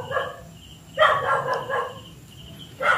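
A dog barking near an abandoned house, a few sharp barks at moderate distance separated by short quiet gaps.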